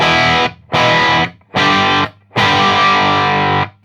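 Distorted electric guitar chords through a BOSS OC-3 Super Octave pedal with the control knob fully down, in four sustained bursts separated by short gaps, loud and buzzy with a thick processed tone, no voices.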